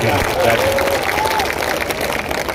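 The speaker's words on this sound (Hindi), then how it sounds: "ऐसी तालियां अपने बिहार का सम्मान में बजा दिया।" A crowd at an all-India mushaira poetry gathering breaks into continuous applause, with a voice briefly audible over the clapping.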